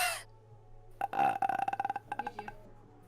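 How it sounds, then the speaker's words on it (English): A single long, loud, rattling burp from a person on a live art stream, close to the microphone and broken into a rapid series of pulses, with a brief sharp noise just before it and a steady low hum underneath. "That burp hurt my throat."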